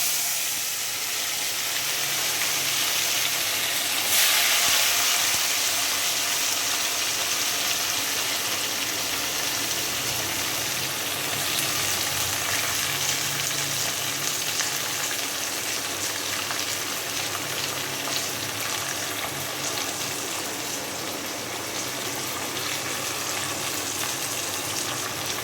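Garlic and onion fry in a pan as the base for chicken curry, giving a loud, steady, even sizzle that hisses without a break for the whole stretch, with no voices.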